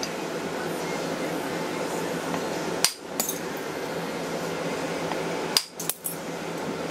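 A hammer striking a metal punch held against tightly clamped material, two sharp metallic blows each followed by a quick second tap, close and loud over steady background noise.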